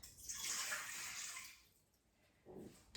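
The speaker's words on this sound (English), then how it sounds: "All right, so I always like to put my liquids in first." Liquids poured into a mixer bowl for pizza dough made with a poolish pre-ferment, a bright rushing splash that fills the first second and a half, fades, then a brief lower pour near the end.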